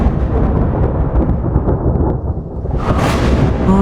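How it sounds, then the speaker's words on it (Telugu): Thunder rolls through stormy village weather, a loud, steady rumble that swells into a sharper burst about three seconds in and keeps booming to the end, with no voices. "చాలా ఉరుములు, మెరుపులు,"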